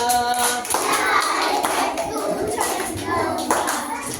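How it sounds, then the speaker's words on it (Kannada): Children clap their hands along with an action song, steady rhythmic claps running the whole time under a sung melody and voices. "ಚಪ್ಪಾಳೆ ತಟ್ಟು ಚಂದವ್ವ"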